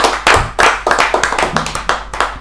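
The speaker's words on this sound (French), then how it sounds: "ça mérite des acclamations, 110 points." Crisp, rhythmic bursts of hand clapping close by from a group cheering a football team, roughly a dozen sharp claps in quick succession with no talk over them.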